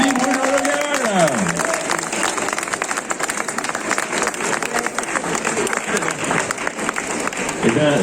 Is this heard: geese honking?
no